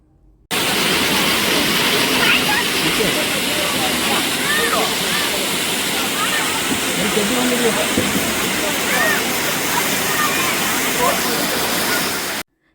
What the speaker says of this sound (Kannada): ಸುಮಾರು ಮೂವತ್ತು ಅಡಿ ಎತ್ತರದಿಂದ ಈ ಜಲಪಾತ ಹರಿತಾ ಇದೆ